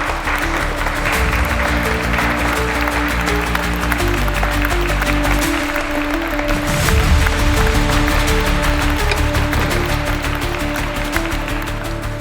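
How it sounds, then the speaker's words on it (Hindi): Audience applause at a staged auction-style event on a crime drama set, steady clapping holding through twelve seconds under music-like tonal layers and a low rumble. "तालियां।"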